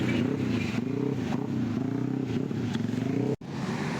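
Racing motorcycles at a race track during a sprint event roar steadily and loudly, the engine drone holding throughout with brief surges and one sharp cutout near the end.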